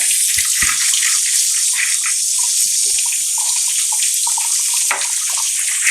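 Soaked storage beans rinsed under running tap water, a continuous hiss and splash of flowing water with a few brief knocks and clunks of the beans and container.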